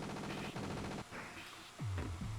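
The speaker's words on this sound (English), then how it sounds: "Square shoots your machine gun" Machine gun bursts in the Ghost in the Shell video game, a couple of quick rattling volleys followed by dropping electronic tones, fairly faint.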